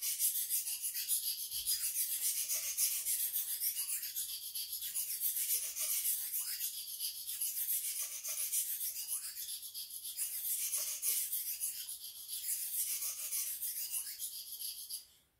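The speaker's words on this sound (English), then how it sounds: "Turn it over, same again on this side." Steady repeated rasping strokes of a boning knife blade drawn across a sharpening stone to raise a burr, an even scraping rhythm that continues for about fifteen seconds and then stops.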